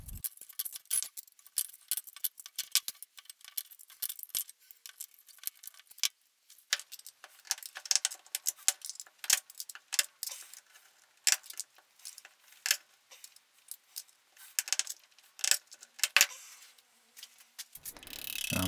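Tin snips cutting thin steel sheet for a lamellar helmet, giving a run of sharp metallic clicks and snipping crunches in irregular bursts, close up with quiet gaps between cuts.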